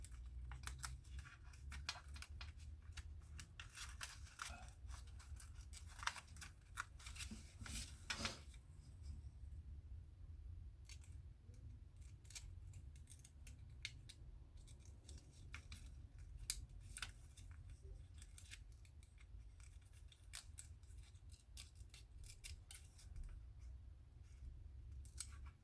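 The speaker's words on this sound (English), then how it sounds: "I'm just using the X-Acto knife to lift up on the paper to help get it going" An X-Acto knife lifts and peels paper masking off a painted RC buggy body, giving repeated sharp scraping ticks and crisp paper crinkles over a steady low background hum, close and moderately loud.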